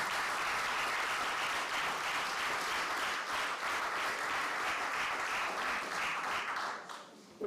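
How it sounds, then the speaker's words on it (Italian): At a book presentation in Isili, a seated audience welcomes the guests with a warm, even round of applause that carries on for several seconds and then fades out near the end. "Salutiamo con un applauso i nostri ospiti."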